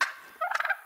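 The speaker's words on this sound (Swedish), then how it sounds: "Och jäkla kalkonkacklande." A wild turkey in theHunter: Call of the Wild gives one short, rapid gobble, a quick warbling burst standing alone and fairly close.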